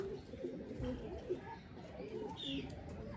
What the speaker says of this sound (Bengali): এটা একটা ইন্ডিয়ান কবুতর